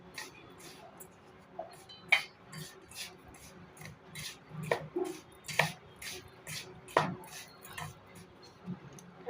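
Milk powder and sugar being mixed into milk in a bowl, giving a run of light clinking and scraping taps of a utensil against the bowl, fairly close and irregular, with faint background noise.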